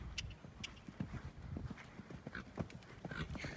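Horse hooves clip-clopping steadily during a riding lesson, a quiet irregular patter of footfalls with some faint rustling and distant sounds around it.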